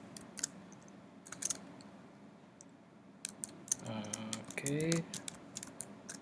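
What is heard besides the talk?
typing on a computer keyboard while writing Python code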